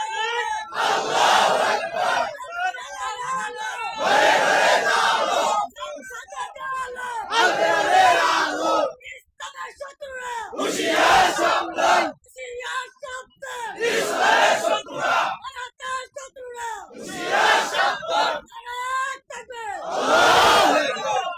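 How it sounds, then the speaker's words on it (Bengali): A large crowd at a religious sermon in Dhaka shouts a call-and-response chant in repeated loud bursts, each roaring swell rising and fading with short gaps between. "তাকবীর একটু জোরে দাও তো, নারায়ে তাকবীর জোরে দাও"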